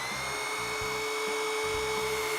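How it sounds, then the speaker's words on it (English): A cordless drill spins an engine's oil pump on a small-block 350 build, producing a steady high whine with faint rhythmic mechanical pulses underneath, constant and close. "I hooked up the cordless drill and it got no oil pressure"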